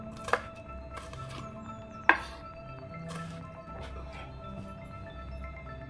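Knife chopping peeled shallots and green chillies on a board, a few sharp, sparse cuts, two standing out louder, against a quiet kitchen background.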